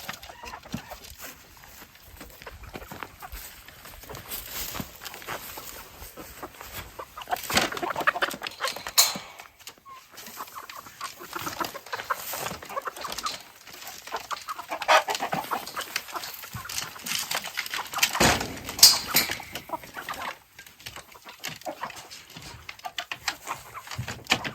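An American Bresse rooster clucks and calls in scattered bursts over a steady outdoor hiss at a woodland homestead, with other fowl faintly audible around them.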